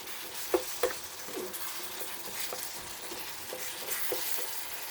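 Taco meat sizzles and fries steadily in a pan on the stove, a close, hissing crackle with a few sharper pops and stirring scrapes, no voices.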